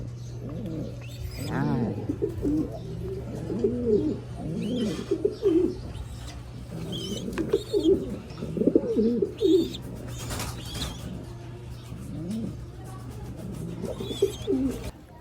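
Young pigeons in a breeding loft coo in repeated soft, low phrases throughout, with occasional faint chirps, close by under a steady background hum and brief talk.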